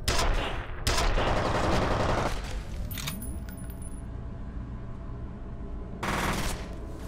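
Gunfire in the shooter F.E.A.R.: a few loud, close bursts of rapid shots separated by gaps, with a quieter middle stretch and one more burst near the end.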